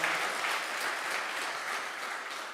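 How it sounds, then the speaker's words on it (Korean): Church congregation applauding to welcome newcomers during a service, a steady, dense wash of clapping at moderate volume that holds evenly throughout without voices. "다 같이 우리 박수로 환영을 합시다."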